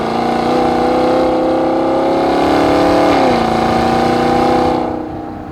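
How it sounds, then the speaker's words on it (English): Chevrolet Camaro SS, 2020/2021, with active exhaust in Sport mode and the valves open: a loud, steady engine drone near the listener that rises in pitch, then drops back and fades out at the end. "when you put it in Sport mode, it also changes the sound of the exhaust"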